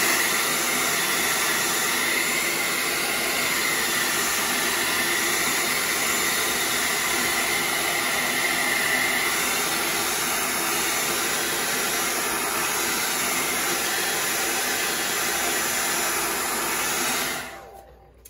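A hair dryer drying paint on a craft project, blowing a loud, steady whirring rush close by for about seventeen seconds before it switches off and winds down.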